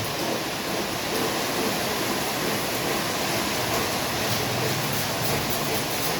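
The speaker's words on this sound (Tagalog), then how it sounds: "Malakas ang ulan." Heavy rain pours down in a steady, loud, unbroken hiss that stays dense and even throughout, with no voices heard over it.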